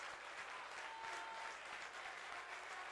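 A home crowd of Alaska Nanooks fans, many dressed in blue, gives a steady, sustained round of applause at a college volleyball match against Alaska Anchorage, with dense clapping and no clear talk.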